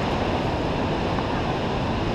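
Water rushes in a small creek and waterfall at Silver Creek Falls during a winter hike, a steady, broad rushing hiss with no breaks, close and moderately loud.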